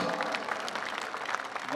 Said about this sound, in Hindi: मुझे एक बार पीछे तक ताली बजा करके हुक्म दें कि मैं ये नज्म आपको सुनाऊं।